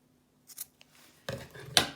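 Scissors snip through a drawstring cord on a small fabric pouch, a couple of light close cuts followed by a sharper, louder snip near the end.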